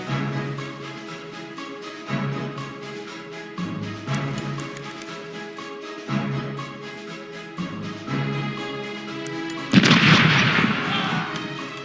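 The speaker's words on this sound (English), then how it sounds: "Starboard cannons are ready to fire! Open fire! All cannonballs!" Broadside of ship cannons fired in the pirate game Corsairs Legacy, a series of deep booming blasts roughly every two seconds, ending in a louder, harsher burst, with no voices.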